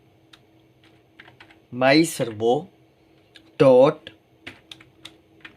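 Keys clack on a computer keyboard as servo-control code is typed for an Arduino joystick project. Short bursts of clicks come between stretches of someone speaking, close and fairly crisp.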